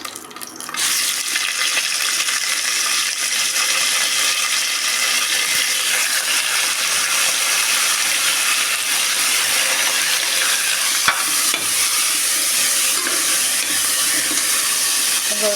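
Chicken pieces frying in hot oil, a steady, loud broadband sizzle and hiss running continuously throughout with no voices.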